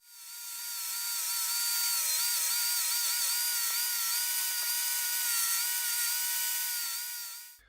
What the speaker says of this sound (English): So I'm going to clean this up on the grinder.